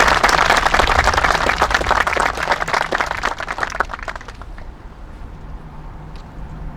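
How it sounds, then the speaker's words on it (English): Audience applause at a 2021 Veterans Day ceremony in North Reading, a dense burst of clapping that holds for several seconds and then thins out and fades toward the end. "Please, a very big warm round of applause."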